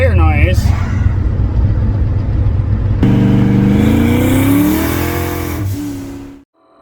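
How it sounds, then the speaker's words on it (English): A turbocharged Town Car on street tires roars loudly from inside the cabin, engine droning under a steady road and tire rumble, with a rising note in the second half before it cuts out. "We're still making tire noise."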